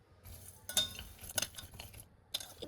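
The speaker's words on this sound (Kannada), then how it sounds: "ಫ್ಲಾಕ್ಸ್ ಸೀಡ್ಸ್, ಪಿಸ್ತಾಶು, ಕ್ಯಾಶ್ಯೂ ಇದನ್ನೆಲ್ಲ ಹಾಕಿ ನಾನು ಡ್ರೈ ರೋಸ್ಟ್ ಮಾಡ್ತಾ ಇದ್ದೀನಿ" Flax seeds, pistachios and cashews dry roasting in a pan over medium flame, stirred with a utensil that gives a few soft clinks and scrapes in short bursts, quiet and close.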